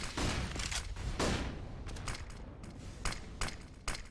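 AK rifle fire in an esports shooter match: a few sharp, separate gunshot bursts with quick decaying tails, spaced unevenly, fairly close, with no clear voices.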